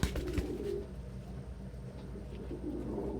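Pigeons cooing softly from stable perches in an indoor bird enclosure, a low murmuring coo heard at moderate distance with a brief rustle near the start, steady background hum throughout.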